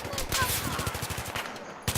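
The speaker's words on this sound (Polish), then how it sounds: "O, strzał." Rapid gunfire from Battlefield 3 on the Ziba Tower map during a Gunmaster match, a dense string of close, loud shots with brief gaps and a final burst near the end.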